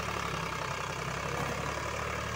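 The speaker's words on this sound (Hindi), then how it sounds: "ये देखो जी कितना बढ़िया लेगा चल पड़ा टीलर" Eicher 551 tractor engine running steadily at about 1500 rpm while driving an 11-tine tiller in a field, a continuous loud low diesel drone with no pauses and no talk.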